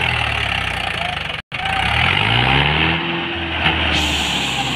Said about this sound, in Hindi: ये देखिए आप यहाँ पर किस तरह ट्रैक्टर जो आगे से उठ चुका है पूरा, और यहाँ पर ये इस बार निकल ही जाएगा शायद।